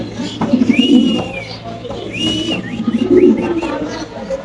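Pigeons at a home bird sale give several soft, throaty coos close by, with a faint whistle-like call and a little background talk.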